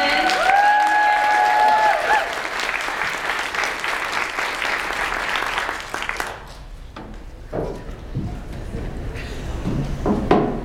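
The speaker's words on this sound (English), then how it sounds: "we're going to give her a big round of applause while she comes up to give her presentation" An audience at a community bike advocacy event applauds a presenter with dense clapping that fades after about six seconds, leaving scattered claps, shuffling and a few thumps as the room settles.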